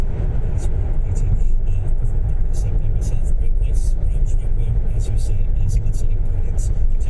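Car cruising in sixth gear at about 50 on the M80 motorway near roadworks, a loud steady cabin rumble of engine and road noise with someone talking over it.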